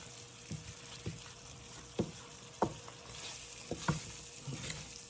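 A spoon stirs shrimp curry in a pot while it sizzles steadily, with a series of distinct scraping knocks against the pot spread across the clip.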